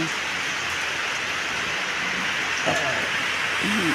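Steady heavy rain pours down continuously, a dense hiss of drops with a few faint chirps in the background.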